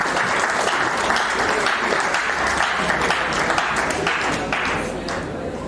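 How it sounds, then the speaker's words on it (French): A ceremony audience in Kinshasa claps steadily and densely throughout, a sustained wash of applause with faint voices mixed in, easing slightly toward the end. "Applaudissons encore, s'il vous plaît, pour encourager."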